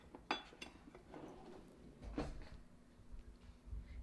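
Kitchen utensils knock and scrape in a bowl of low-calorie oat-flour banana bread batter while a spatula takes over, giving a few faint, scattered clinks and soft scrapes with no talking.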